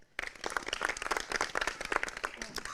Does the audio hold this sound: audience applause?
yes